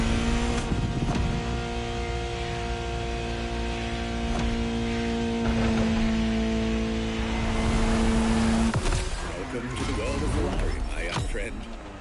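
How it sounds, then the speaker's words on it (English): A sports car engine in the video game The Crew Motorfest drones steadily at close range, holding a high whine, then revs and shifts near the end as a voice talks over it. "Just listen to the car you're driving."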